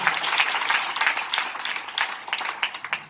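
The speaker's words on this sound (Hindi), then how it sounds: "तो खुद के लिए ताली देना अच्छी बात है" Crowd clapping in a hall at an education presentation in Kanpur, many hands applauding in a dense wash that turns uneven and tapers into scattered claps, with faint voices underneath.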